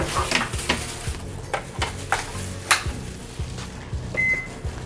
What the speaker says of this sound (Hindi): फिर हम लोग माइक्रोवेव में रखेंगे।